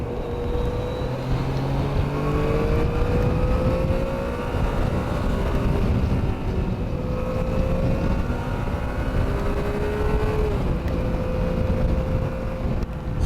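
A 2019 Yamaha Niken GT three-wheeled motorcycle rolling slowly through traffic, its engine hum rising and shifting in pitch under steady wind rush, heard continuously from the rider's position.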